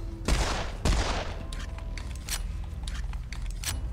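Pistol gunfire in Serious Sam 4: two loud, close shots in quick succession, followed by quieter mechanical clicks and in-game noise.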